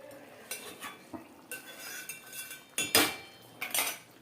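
A metal lid clinks and clatters onto a pot of simmering fish curry in a home kitchen, with several sharp metallic knocks and scrapes spread over a few seconds and no talking.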